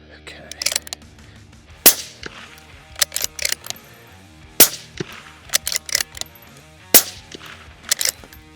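A 6mm Dasher competition match rifle firing on an outdoor range, with sharp, loud cracks standing out among quieter clicks and handling noises spread over several seconds.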